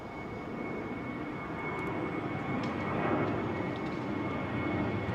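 A jet airliner departs runway 09R at London Heathrow Airport, its broad engine roar building steadily and holding loud and close throughout.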